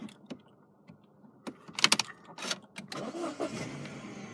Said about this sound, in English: stepping inside the car and starting the vehicle